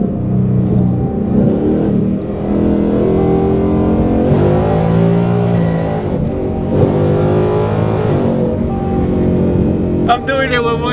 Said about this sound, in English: Hope y'all enjoy those little 10-speed downshifts.